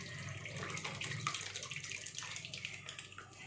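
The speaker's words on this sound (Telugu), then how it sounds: "నూనెనేమో టప్ టప్ టప్ టప్ అని సౌండ్ వస్తుంది." Oil is poured from a vessel into mango avakaya pickle. A continuous, close splashing gurgle flows steadily throughout, with no talk.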